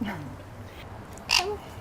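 A pet bird gives a short harsh squawk or caw near the end, close and fairly loud, after a quieter call at the start, with a faint voice in the background.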